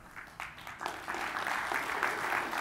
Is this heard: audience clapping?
yes